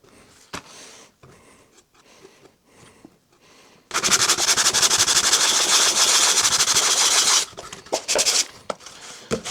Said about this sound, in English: I'll sand down to 220 or 240.